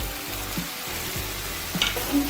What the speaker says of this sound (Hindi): अब हम इसमें चिकन ऐड करेंगे